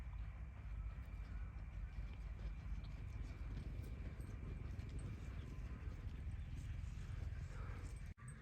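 Horse hooves clip-clop steadily as a mare is worked in training under a rider, the rhythm running throughout at moderate distance amid a continuous outdoor rumble.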